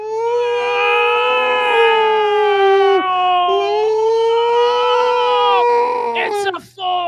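A loud, sustained wailing tone that rises and falls like an air raid siren, apparently a voice imitating it, ending in a sudden break.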